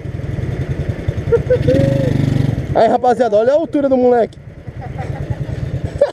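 A Honda CB Twister motorcycle idles nearby, then revs hard in quick rising and falling bursts before settling back to idle. The sound is loud and close, and someone talks over it.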